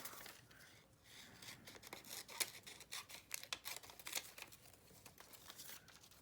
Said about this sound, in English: I think I have to cut apart a little bit more. I always keep my scissors on me in case we gotta do some cutting.